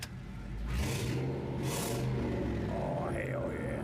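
A turbocharged V8 engine in a Subaru Forester revs up, a low rumbling roar rising and holding with whooshing surges, heard from inside the car, fairly loud and close.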